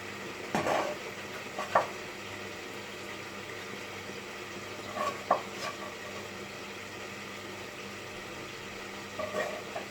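Steady sizzling of gyoza dumplings frying in a pan, with a few soft clinks of utensils against metal now and then.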